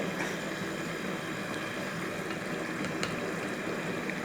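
A pot of carrot and potato vegetable curry bubbles steadily at a boil, with a dense, constant hiss and simmer and a few faint scrapes of stirring mixed in.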